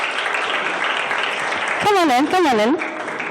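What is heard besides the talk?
applause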